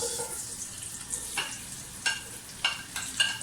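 Onions sizzling in hot oil in a home kitchen pan, a steady hiss with a few sharper crackling bursts, fairly close and with no voices.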